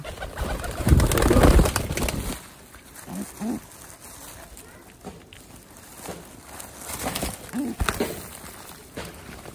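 Hungry Khulna high-flying pigeons coo softly in short murmuring bursts, with a louder rustling flutter near the start and scattered shuffling movement throughout.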